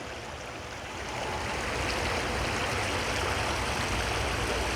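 A river flows steadily past a disc golf hole, giving a broad, continuous rushing wash that swells slightly after the first second and then holds even and moderately loud.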